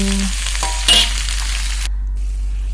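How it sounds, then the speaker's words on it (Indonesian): Vegetables being stir-fried in a pan, stirred until wilted, giving a steady close sizzle with brief scraping clatters and no talk. "kita aduk-aduk merata sampai sayurnya layu"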